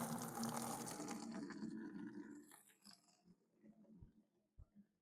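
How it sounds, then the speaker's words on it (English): Tap water gushing loudly into a vessel while collecting 40 litres of Lincolnshire brewing water for an all-grain pale ale, steady and close for about two seconds before fading into quieter knocks and handling sounds. "We're going to collect 40 litres of fine Lincolnshire tap water"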